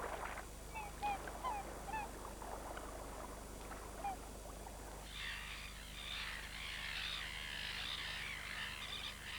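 Swans call repeatedly from a crowded nesting colony in lakeside reed beds at Rotorua, New Zealand, honking notes scattered at first and then building into a dense, continuous chorus of overlapping calls.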